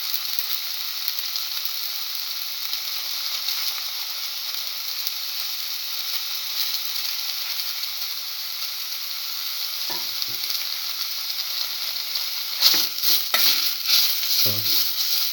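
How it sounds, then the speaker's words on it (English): Spinach leaves frying for a red spinach omelette give a steady loud sizzle throughout, with a few stirring scrapes and clatters of a utensil against the pan near the end. "Now put in the spinach leaves."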